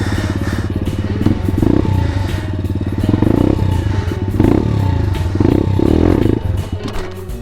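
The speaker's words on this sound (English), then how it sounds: "It's like it's clogged up again. You hear it? Cuts out." A pit bike engine with a clogged carburettor runs loud and close, its rough idle sputtering and surging, then dropping off as it cuts out near the end.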